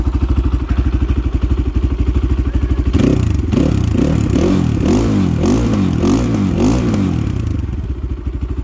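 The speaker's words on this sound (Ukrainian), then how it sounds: "гарно, ускоряється, крутиться і мотор тяговий з низів волочить" A Kovi Max 300 motorcycle engine idles with a steady low thrum, then revs and accelerates in repeated surges before settling back down, loud and close.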